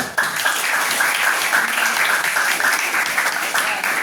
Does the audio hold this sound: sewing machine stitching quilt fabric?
no